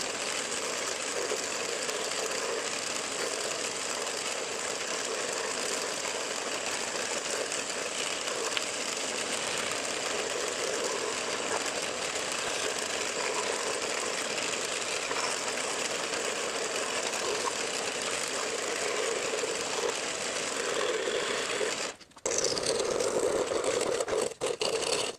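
A router cuts through 1.5 inch thick dense poplar wood with a steady, loud, continuous whine for over twenty seconds. The pitch shifts near the end as the cut changes.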